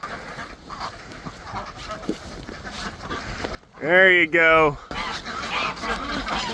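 Farm geese honk loudly in a short close burst of repeated calls as the birds are let out, with a person talking before and after.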